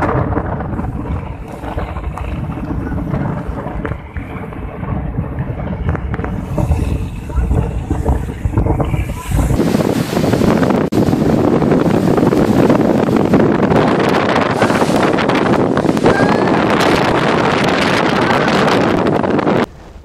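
Strong wind and heavy rain at sea, with the blustery gusts buffeting the microphone in a dense, loud rush that swells and grows heavier partway through.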